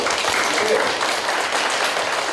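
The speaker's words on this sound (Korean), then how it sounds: "자, 박수 한번 보내주시죠." An audience at a lecture for trainee history guides applauds steadily, a dense, continuous wash of clapping from a crowd.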